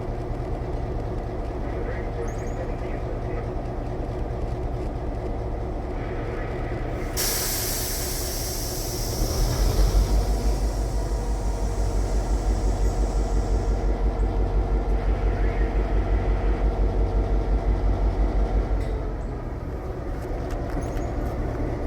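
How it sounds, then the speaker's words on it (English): Diesel locomotive number 4617 idling on a turntable, its steady low engine rumble running throughout, swelling louder midway with a burst of hissing air, then settling back, with a voice talking over it. "our diesel locomotive pulling our train today is number 4617"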